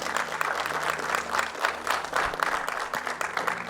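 Sustained loud applause from a large church congregation, continuous clapping filling the room without a break.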